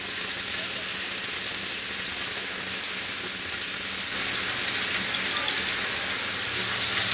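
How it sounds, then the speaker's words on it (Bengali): Beef kofta balls coated in gram flour sizzle in hot oil in a pan, a steady broadband crackle and hiss that runs throughout and grows slightly louder partway through, with no talking. "সাবধানে নাড়ানাড়ি করে তাকে ভেজে নিতে হবে"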